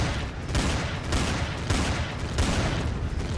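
Sustained turret gunfire in the Empyrion space survival game rattles on in dense, repeated bursts, loud and close throughout, with no speech over it.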